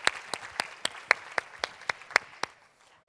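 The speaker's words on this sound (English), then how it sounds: "just do a round of applause for all the guys" Sparse clapping from a small presentation audience at a SXSW 2017 talk, roughly ten distinct claps in a loose, uneven rhythm that trails off after about two and a half seconds.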